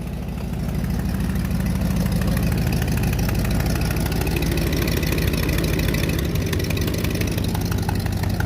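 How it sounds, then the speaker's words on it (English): A 1969 Buick Skylark GS 350 engine runs steadily with a bad exhaust leak, a loud continuous low rumble close by with no talk. "That exhaust leak is bad."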